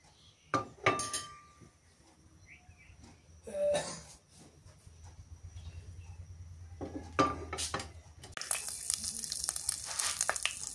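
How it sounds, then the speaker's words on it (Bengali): Eggs going into a pan bring a sudden loud frying sizzle near the end, after scattered clinks and knocks of a utensil against cookware over a low background hum. "ডিম গুলে ভেজে নেই।"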